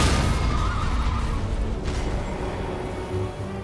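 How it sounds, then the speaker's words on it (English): A horse whinnies in the video game Elden Ring, a loud neigh at the start fading into dense, rumbling game noise. "Come here, horse."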